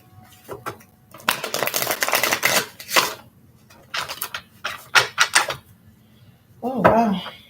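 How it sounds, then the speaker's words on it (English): Tarot cards are shuffled in bursts of riffling and flicking, with short rustling runs separated by pauses and a brief murmur near the end. "Second shuffle."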